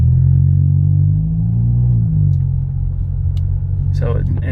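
A 2012 Ford Fusion 2.5L fitted with a Magnaflow 10416 exhaust drives along, its deep, steady low rumble heard from inside the cabin, with a brief higher burst near the end over the drone.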